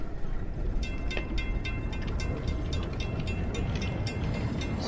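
A train rolls along steadily in a video game, a continuous low rumble with repeated sharp clicks and clacks from the wheels, with no talking over it.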